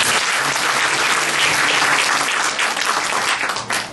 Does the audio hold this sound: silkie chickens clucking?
no